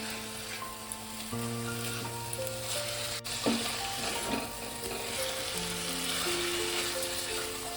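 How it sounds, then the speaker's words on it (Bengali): Chicken pieces fry and sizzle in a pan with spices, a steady close crackle with occasional stirring, alongside faint background tones. "এইভাবে আমি মাংসটা ভালো করে কষিয়ে নেব।"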